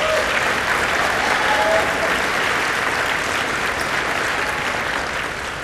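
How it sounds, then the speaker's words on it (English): Sustained applause from an audience at an evening education awards event honoring a school education foundation, steady and dense throughout, gradually easing slightly toward the end. "Let's give them a round of applause again."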